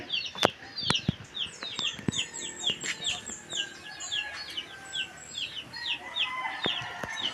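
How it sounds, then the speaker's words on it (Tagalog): Chicks and chickens on a rural family yard, a dense stream of high peeping and clucking calls, some near and some farther off, with occasional sharp knocks mixed in and no talking. "Mga sisiw po ni Tatay Roman."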